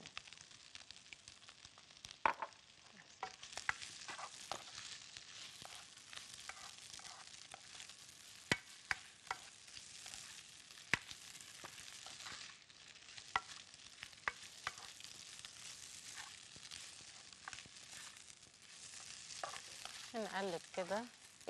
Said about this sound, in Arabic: نقلب كده ايدينا فيها عشان مفيش حاجه تتحرق